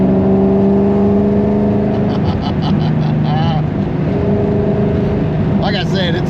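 A performance car that dynoed at about 600 torque and is fuelled with fresh 93 octane runs at a steady idle with a smooth engine hum, while people talk over it throughout.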